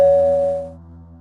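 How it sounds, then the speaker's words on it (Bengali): A single doorbell sounds a clear electronic chime that starts loud and decays over about a second. "সে কলিং বেল টিপে।"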